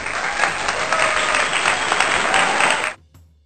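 A crowd at a basketball game claps steadily for an injured player, dense applause that holds for about three seconds and then stops abruptly.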